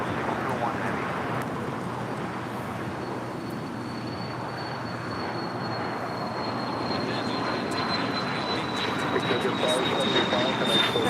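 A jet airliner takes off from runway 25 right at LAX, its engines a steady broad roar that holds throughout and swells slightly near the end, with a thin high whine drifting across the middle.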